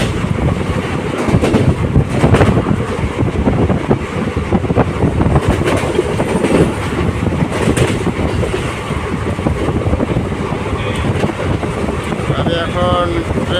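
Train noise recorded from inside a carriage on the Malda to Murshidabad route in India: a loud, continuous rumble of wheels on track mixed with heavy wind buffeting the microphone throughout.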